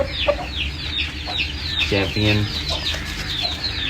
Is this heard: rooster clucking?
yes